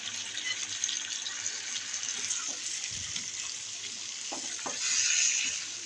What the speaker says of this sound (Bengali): এবার তেল ও পেঁয়াজের সাথে মাংসগুলোকে কিছুক্ষণ ভেজে নেব।